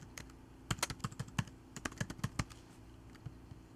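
A computer keyboard is typed on in a quick, uneven burst of crisp, close keystrokes, bunched in the middle and trailing off, with no talking, while a file is renamed in Visual Studio 2010.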